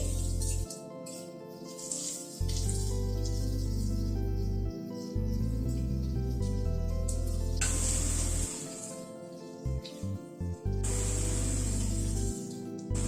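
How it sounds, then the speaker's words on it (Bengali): Onions frying lightly in a pan for homemade chowmein, a steady hissing sizzle running throughout beneath loud background music, with brief dips and bursts as the pan is stirred. "পেঁয়াজটাকে আগে একটু হালকা করে ভেজে নিচ্ছি"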